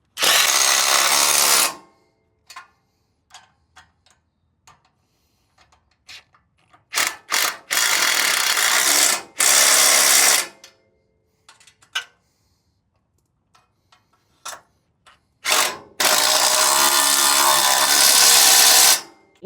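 A power drill bores a half-inch hole in a truck mount on a 6x6 Ford Ranger build, giving several loud, close bursts of whining drilling separated by pauses filled with small clicks and handling noises.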